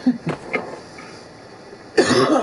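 A single cough with a throat-clearing edge comes close and fairly loud at the start, followed by a couple of softer coughs, a quiet pause, then a rougher, longer burst near the end.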